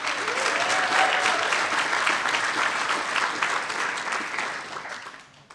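A banquet audience at a WSU volleyball season celebration claps steadily, a full, dense burst of applause from a large room that holds strong and then tapers off at the close.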